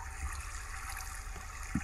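Water in a video game's cave flows and trickles steadily at moderate level, with a couple of soft low thumps near the end and no talking.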